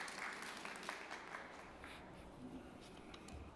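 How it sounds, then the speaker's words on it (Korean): Audience applause welcoming the president of the national return-to-farming association onstage at a youth startup fair lecture, a steady distant wash of many hands clapping, fairly quiet and roomy throughout. "여러분 박수 부탁드리겠습니다."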